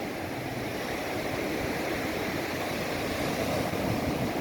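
Dense, continuous roar of surf and strong wind at Laem Sing beach on the Thai coast, a broad rushing wash with no pauses, loud and close.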